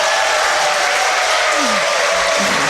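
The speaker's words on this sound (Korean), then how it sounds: "우리 문정희 시인께 다시 한번 어, 박수 부탁드립니다" A live audience at a poetry recitation event applauds the poet Moon Jeong-hee, a dense, steady wash of clapping that stays loud and unbroken for the whole stretch.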